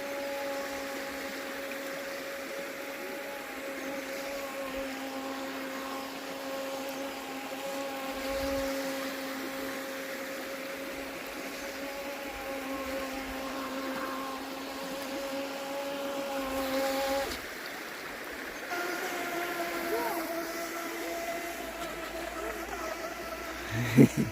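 A small RC boat motor whines steadily at a constant pitch on water, slightly distant, with faint water noise around it and a brief change in tone near the end.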